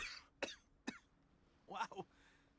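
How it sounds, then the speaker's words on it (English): A character coughs in the Genshin Impact video game: four short, sharp coughs, the last two close together, against a quiet background with faint voices around them. "Why are you coughing?"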